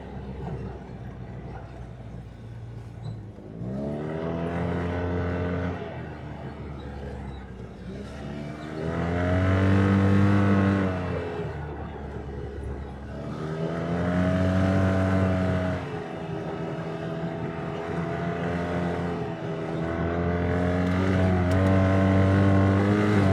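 ATV/UTV cruising the rolling hills of the Harrison Hills trail system in Lincoln County, Wisconsin, engine droning steadily and rising in pitch through several repeated accelerations up and down the slopes.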